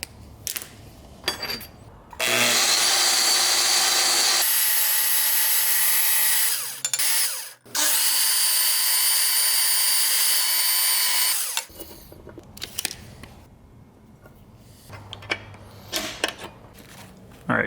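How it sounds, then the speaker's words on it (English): A power drill bores a hole through a metal piece up close, running loud and steady in two long stretches separated by a brief pause, with quieter handling clatter before and after. "All right, we got our piece drilled."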